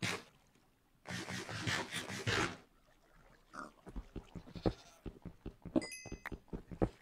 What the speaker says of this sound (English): I hear goats.